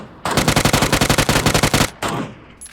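Rapid automatic gunfire in the PC battle royale game PUBG, a loud burst of about fifteen evenly spaced shots, then a brief pause and a second shorter report.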